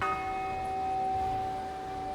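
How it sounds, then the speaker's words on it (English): The Bell of Mercy in Pathfinder: Wrath of the Righteous ringing, a single sustained metallic tone with humming overtones that decays slowly over a quiet background. "It's the Bell of Mercy."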